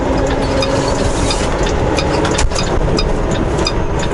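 A bobtailing truck's engine brake on setting 3 drones and rumbles steadily, loud and close, with a low rattling growl throughout and a brief louder burst midway, no voices.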